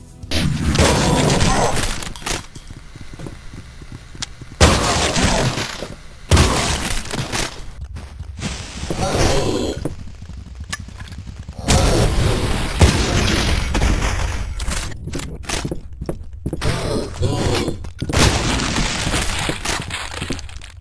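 Double-barreled shotgun blasts in the retro first-person shooter Cultic come as loud, irregular bursts of booms and cracks mixed with crashing, breaking debris, separated by short quieter gaps.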